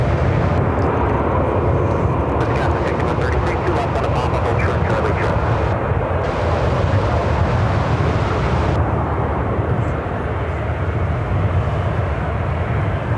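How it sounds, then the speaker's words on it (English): An American Eagle CRJ 200LR regional jet arriving at Chicago O'Hare produces a loud, steady, broad engine roar for the full stretch, with voices talking over it. "This is American Eagle 6133 coming in from, is it Moline? Moline? Moline? On a CRJ 200LR."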